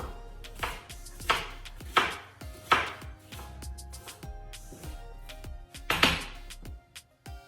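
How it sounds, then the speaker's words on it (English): A knife dicing green onion on a cutting board, giving about seven separate, fairly loud chopping thuds at an uneven pace, close by with no speech. "we'll start off by dicing my onions"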